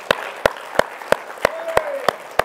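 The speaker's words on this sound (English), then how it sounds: "I want us to give the Lord a hand clap for all that's been done tonight." An evening church congregation claps in slow, evenly spaced single beats, about eight sharp claps in a steady rhythm, close and clear over a quiet room hum.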